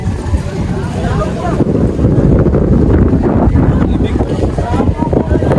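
Strong wind roars and buffets the microphone continuously at Nalahican Port, loud and rumbling throughout, with no clear voices.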